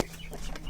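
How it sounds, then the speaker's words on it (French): A blue Faverolles hen clucks softly on a farm, a faint, low murmur of clucking that rises briefly to a sharper note at the end. "Voilà notre poule blue sombre favorole."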